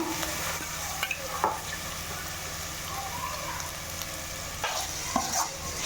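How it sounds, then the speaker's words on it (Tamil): Rice stirred in a pan with ginger-garlic paste while cooking chicken biryani, a steady soft scraping and sizzling texture with a few sharper clinks of the spoon against the pot, close and moderately loud, no voices. "இதை நல்லா இப்போ கிளறி விடணும் கொஞ்சம் இஞ்சி பூண்டு பேஸ்ட் போடுவோம்"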